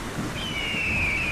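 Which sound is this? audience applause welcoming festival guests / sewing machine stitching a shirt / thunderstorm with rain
thunderstorm with rain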